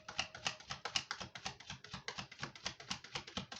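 Angel answer oracle cards being handled and pulled from the deck, a quick rhythmic run of soft papery taps and flicks, close and fairly quiet, with no voice.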